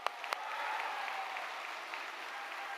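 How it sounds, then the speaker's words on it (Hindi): A standing audience at a leadership talk claps for themselves, a couple of sharp early claps giving way to steady, moderately distant applause that continues evenly to the end. "जोरदार अपने लिए तालियां बजाइए"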